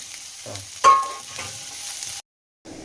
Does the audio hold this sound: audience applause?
no